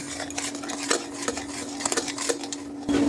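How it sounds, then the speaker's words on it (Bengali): Homemade tomato sauce for ketchup is stirred as it heats in a pan. A spoon scrapes and taps repeatedly over a low bubbling hiss and a faint steady hum. "এটাকে আমি এভাবে নাড়াতে থাকবো আর আমি ফোটাতে থাকবো, ফুটিয়ে একটু ঘন করব।"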